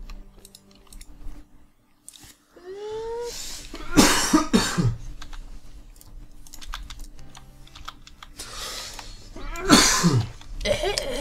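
Several coughs in a Minecraft gaming session, heard as loud bursts around the middle and again near the end, with keyboard typing clatter running throughout the quieter stretches.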